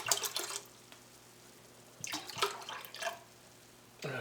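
Apple cider, about half a gallon, pours into a pot in a few soft splashing bursts with brief pauses between, quiet and close with no talking.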